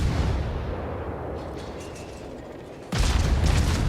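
Heavy battleship guns firing in a naval combat game, the Khabarovsk named as the ship: sustained loud rumbling boom that fades slightly, then a fresh sharp blast near the end, with no talking.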